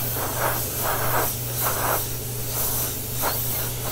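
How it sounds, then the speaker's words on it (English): An airbrush sprays blue paint over a ball helmet in bursts of steady hiss, roughly five pulses, with a constant low hum of the compressor running underneath throughout. "So we're just going to kind of spray some blue on here."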